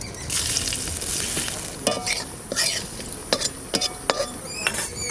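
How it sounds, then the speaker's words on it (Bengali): Black cumin, white cumin and torn chillies crackle and sizzle steadily in hot oil in a pan as the tempering begins for taro greens cooked with a hilsa fish head. Close, continuous frying hiss with sharp pops and occasional utensil clinks. "ওই তেলের মধ্যে কালো জিরে আর দুটো সাদা জিরে দিয়ে দেবো লঙ্কা দুটো ছিঁড়ে দিচ্ছি"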